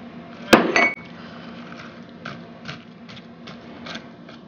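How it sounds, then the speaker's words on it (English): Melted butter stirred into scalloped corn ingredients in a bowl, starting with one sharp utensil clank, then soft, evenly spaced scraping and tapping strokes, fairly faint and with no talk. "Mix this up."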